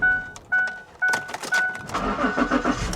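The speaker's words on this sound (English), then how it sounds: "that starter sounded rough" A car starter on an Infiniti G37xS cranks roughly in short bursts beside a repeating warning chime, then the engine catches and runs.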